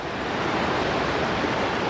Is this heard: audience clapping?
no